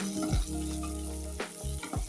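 Broken cashew halves fry with softened onions in a pan for paneer pulao, making a close sizzle under a steady low hum, broken by brief clattering stirs.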